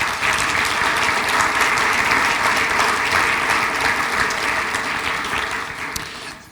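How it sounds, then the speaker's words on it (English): A luncheon audience applauds its sponsors, steady full clapping filling the room for several seconds before tapering slightly at the end. "If you could please give them a round of applause."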